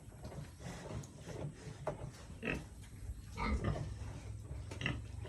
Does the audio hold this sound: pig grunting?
yes